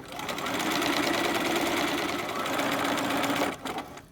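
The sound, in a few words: sewing machine sewing an invisible zipper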